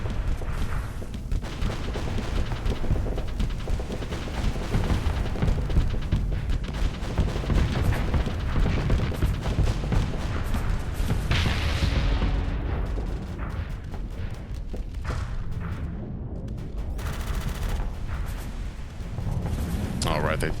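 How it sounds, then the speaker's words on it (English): The Diablo ship in the space combat game Starsector fires guns and missiles in a dense, continuous barrage of chunky booms and blasts, loud and layered with little pause. "I like how chunky these guns sound"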